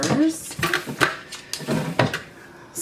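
Makeup items being sorted into three plastic drawers, with clicking, knocking and sliding clatter of cases and drawer parts in a few close, irregular bursts, while someone talks over them.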